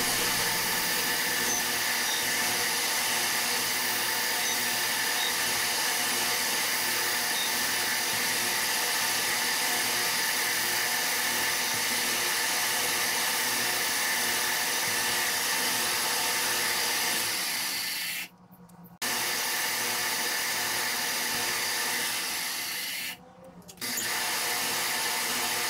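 A metal shaper cuts a counterbore with a boring bar, giving a steady, continuous mechanical whine and hum that runs throughout, broken twice by brief pauses before the machine resumes.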